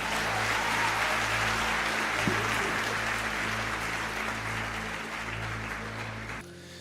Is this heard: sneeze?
no